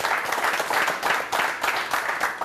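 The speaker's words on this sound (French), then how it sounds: "Encore des applaudissements pour elle" Audience applause in a hall, a steady dense clapping with rhythmic swells, moderately loud, throughout the short moment with no talking.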